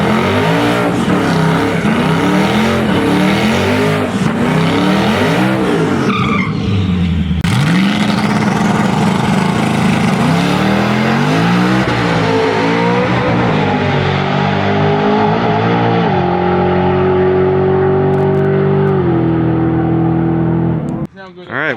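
A high-boost drag-racing Mustang, peaking around 25 to 28 pounds of boost, roars hard through repeated rising engine sweeps, with a sharp shift break partway and a loud, sustained strained pull; voices are faintly present beneath the engine.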